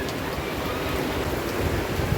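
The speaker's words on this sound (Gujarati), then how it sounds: "એક સરસ મજાનો વરસાદ જ આવે છે" Heavy first rain of the season pours down in a village, a dense, even hiss of falling water that holds steady throughout with no voices.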